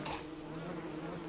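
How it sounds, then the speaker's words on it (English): Bees drone in the survival video game Don't Starve, making a steady, continuous buzzing that sounds like a swarm. The drone is close, even and moderately loud, with no talking over it. "I don't want to mess around with that many bees"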